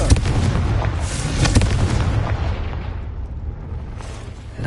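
A Confringo fire spell from Hogwarts Legacy bursts in a string of loud booming explosions with crackling rumble, fading toward the end before a last blast.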